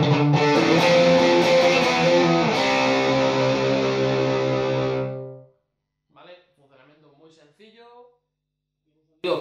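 A Fender Limited Edition Telecaster in Malaysian Blackwood plays through a Marshall 2525C combo with distortion, ringing loud, sustained gained chords for about five seconds before cutting off, followed by someone speaking.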